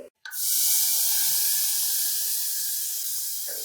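A paste of tomato, onion and garlic hits a hot pan while making spicy potatoes, bursting into a loud, sharp sizzle that holds steady and slowly eases, close up with no voices.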